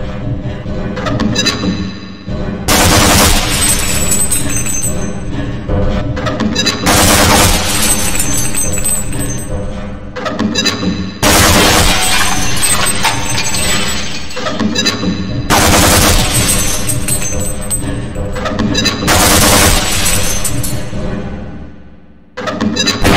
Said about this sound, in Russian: Чтобы выстрелить из подствольного гранатомета, нажмите кнопку альтернативного выстрела.